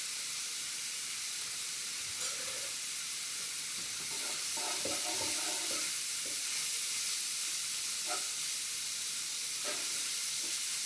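Breakfast sausage browning in a pan for gravy sizzles steadily, with occasional scraping stirs and soft clinks against the pan in the middle and near the end.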